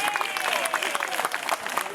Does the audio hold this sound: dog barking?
no